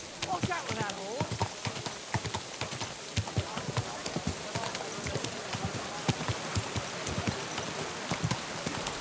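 Horse hooves clip-clop steadily in the medieval video game Kingdom Come: Deliverance II, a quick uneven rhythm of close strikes running throughout, with someone talking over them.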